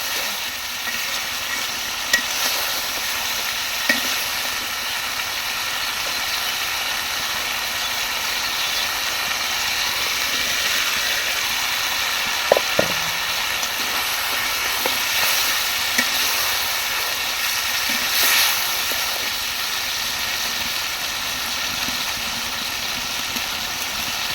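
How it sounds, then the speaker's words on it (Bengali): Crab and potato fry in a pan with a steady low sizzle, joined by a few soft clinks and stirring scrapes. A faint engine-like hum runs underneath, and no one speaks. "কাঁকড়া আলু এটা ভালো করে ভাজা হয়ে গেছে"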